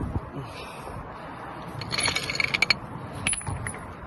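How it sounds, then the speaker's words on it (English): A ratchet with a 36mm socket loosens a nut on an MK5 VW Golf R32 during a driveway oil change, giving a short run of crisp metallic clicks against a quiet background. "we're going to need a 36mm socket for this to get the nut off"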